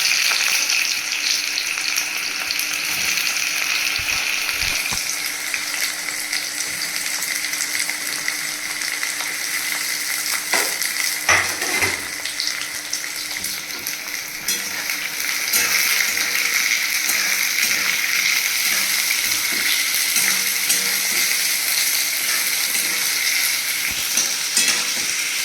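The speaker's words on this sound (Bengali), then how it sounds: "তাতে পেঁয়াজ কুচি ছেড়ে দিলাম।" Chopped onion frying in hot oil with panch phoron for mutton kosha, a steady close sizzle with occasional stirring scrapes, continuous and fairly loud with no talking.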